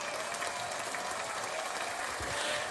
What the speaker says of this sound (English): I've got to give you, of course, the all-infamous round of applause.